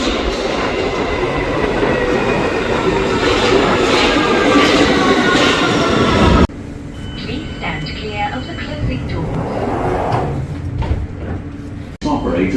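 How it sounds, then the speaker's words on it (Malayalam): An airport-bound train runs on rails at a station, a loud steady rumble of wheels and carriage noise that drops to a quieter interior hum partway through, with faint clattering. "എയർപോർട്ടിലോട്ടുള്ള ട്രെയിൻ."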